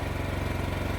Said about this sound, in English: The generator is now running this building.